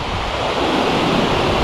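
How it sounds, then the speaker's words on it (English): A river in Maine flowing steadily, a broad, loud, unbroken rush of water close to the microphone with no voices. "Nice old swimming river."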